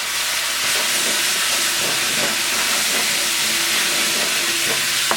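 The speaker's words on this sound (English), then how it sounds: "Get that to just sizzle," Garlic and ginger sizzle in a hot pan, a loud, steady frying hiss that fills the whole stretch, with faint clinks of stirring underneath.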